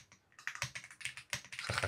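Typing on a Royal Kludge RK R75 mechanical keyboard, a close run of quick clacky keystrokes in irregular bursts with crisp, sharp attacks and no voice.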